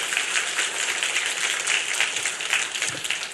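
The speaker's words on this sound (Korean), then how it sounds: "우리 하나님께 박수로 한번 영광 돌립시다." A church congregation claps together during a Korean sermon, a dense, steady wash of applause filling the room throughout, with no clear speech on top.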